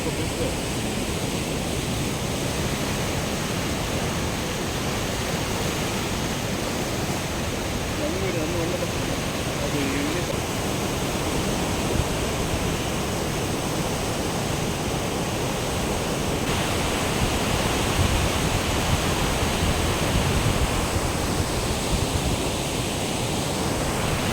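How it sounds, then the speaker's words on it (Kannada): Water gushes through the gates of the overflowing Baje dam in a loud, continuous, broadband roar that stays steady and close throughout, with no clear voices above it. "ಈ ಸೌಂಡು ಆ ಗೇಟಿಂದ ನೀರು ಹೊರಗಡೆ ಬರೋದು"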